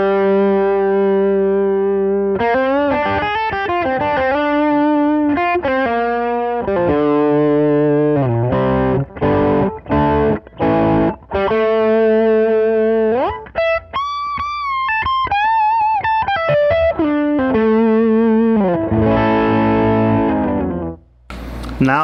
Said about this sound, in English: here is the Gibson Les Paul strung up normally with 10s